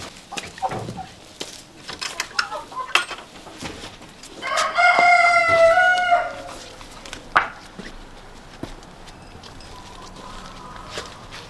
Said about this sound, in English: here we have the chickens